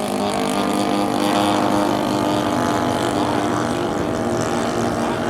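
A model airplane engine at an RC air combat event runs rich, giving a steady, loud buzzing drone with a rough, raspy edge that holds without a break throughout.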